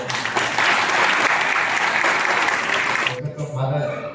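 An audience at a St. Xavier's school event claps loudly and steadily to welcome Brother Deepak, the dense applause filling the room for about three seconds before dropping away into quieter murmurs.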